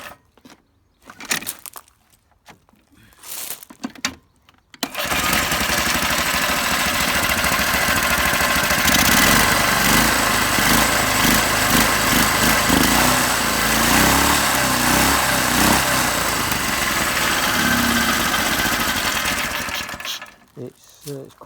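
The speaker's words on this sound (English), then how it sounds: "We've got a belt start Kawasaki starter motor. So you push the lever down, tightens the belt up" Kawasaki-engined trike motor, fired by a belt-start Kawasaki starter, runs steadily with a loud, rough, buzzing idle close by for about fifteen seconds, after some brief knocks and handling noises and before cutting off.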